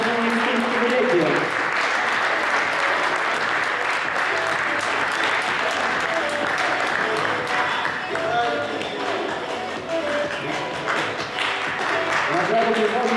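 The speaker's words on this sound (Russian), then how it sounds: "Аплодисменты не утихают" Sustained loud applause fills a hall at a youth volunteer forum award ceremony at a university, dense clapping continuing without pause for the whole stretch, with faint voices mixed underneath.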